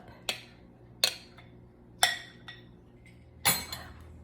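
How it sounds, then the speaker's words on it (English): Spoon clinking against a bowl while dressing is mixed into a Frito corn salad, five or six sharp separate clinks spaced unevenly, close and fairly quiet, with no talking. "Now all we have to do is put the dressing on the salad and mix it all up."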